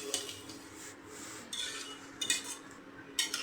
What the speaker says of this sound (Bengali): টমেটো সস দিয়ে ভালো করে মিশিয়ে নিব